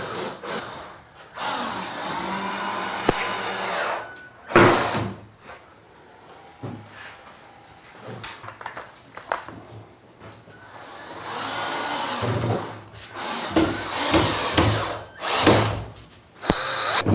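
A power drill drives screws into wooden gazebo support beams in loud, whirring bursts of a few seconds each. Pauses, clunks and handling noises of the wood and tools come between the bursts.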